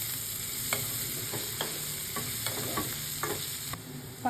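A spoon stirs white sauce pasta mixture seasoned with salt and pepper in a pan, giving soft repeated scraping strokes over a steady low sizzle, close and fairly quiet.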